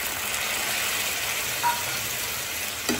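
Omelette korma frying in a pan, a steady loud sizzle that continues throughout after a splash of water is added, with a couple of faint clinks of a utensil near the end.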